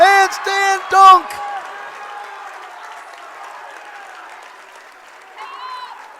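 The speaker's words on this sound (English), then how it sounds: "And the T cheering section just got a lot of energy from that." A high school basketball student section cheers after a two-handed dunk, opening with loud whoops and shouts that fade into sustained applause and crowd noise in a gym, with an announcer speaking over it.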